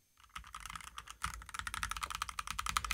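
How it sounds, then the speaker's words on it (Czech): Fast typing on an Asus keyboard with linear switches, a dense run of close, crisp keystroke clicks and clacks that speeds up and grows louder toward the end. "Mám tady ještě jednu a to je Asus klávesnice s linérama taky."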